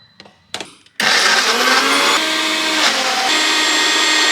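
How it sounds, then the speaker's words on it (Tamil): Mixer grinder blending coconut and tomato into paste, starting after a few brief clicks and knocks into a loud, steady high-pitched motor whine with a slight shift in pitch partway through. "இதை நல்லா அரைச்சிப்போம் பேஸ்ட்டாக"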